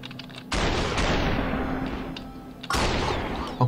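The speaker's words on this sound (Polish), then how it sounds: "Bo oni tam strzelają, pozbijali szyby." Superhot video game gunfire rings out in two loud, sharp blasts, each trailing into a decaying crash of breaking glass, with a steady low hum beneath.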